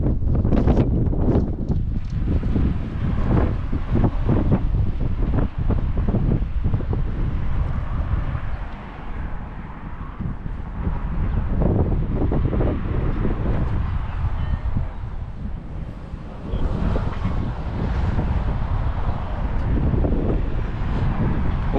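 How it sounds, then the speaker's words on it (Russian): Strong, steady wind by the water in Milwaukee buffeting the microphone with a roaring, gusty rumble that rises and dips throughout, with no other clear sounds. "сегодня очень ветрено"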